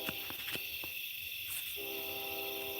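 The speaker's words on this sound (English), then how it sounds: "That's good that you hear the train." A train passes in the distance at night on a farm. Its horn or whistle sounds as a faint, sustained tone over a steady chorus of crickets and rumbling rail noise.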